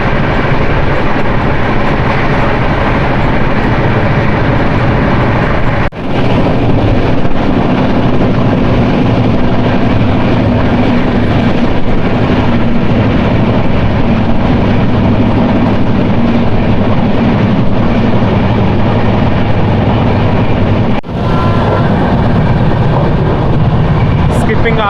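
Garib Rath express 12736, Yesvantpur to Charlapalli, rolls along the rails at roughly 125 to 130 km/h, giving a loud, steady, continuous rumble and rattle with two brief dips in the noise.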